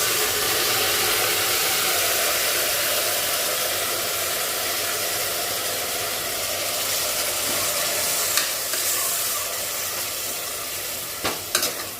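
Chopped onions with masala, ginger-garlic paste, coriander, mint, salt and chilli powder sauté for chicken biryani in a cooker pan. A loud, steady sizzle of frying runs throughout, with a few light stirring clicks near the end.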